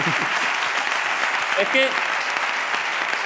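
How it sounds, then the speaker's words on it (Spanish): A studio audience applauds steadily at a late-night talk show interview, continuous clapping throughout while a voice briefly speaks over it. "podéis aplaudir a Celote también"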